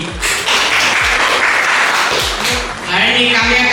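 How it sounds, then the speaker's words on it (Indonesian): Applause from a seated audience at an MC school event in Surabaya, Indonesia: a burst of clapping with some louder, nearer hand claps punctuating it, dipping briefly in the middle before swelling again. "Boleh tepuk tangan sekali lagi."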